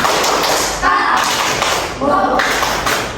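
Fifth-grade schoolchildren in a classroom clap a loud, steady rhythmic pattern together while their voices chant along over it.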